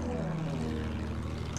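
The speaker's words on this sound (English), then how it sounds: "I got an enemy plane moving around." An enemy propeller plane in Battlefield 1 drones nearby, a steady buzzing engine hum that holds constant with no clear approach or fade.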